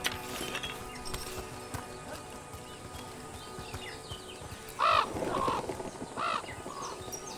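A bird in Dragon Age: The Veilguard gives a few loud, harsh caws in two short bursts, standing out over a low ambient game backdrop.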